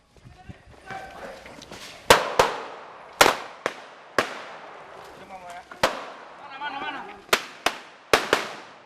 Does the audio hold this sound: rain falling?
no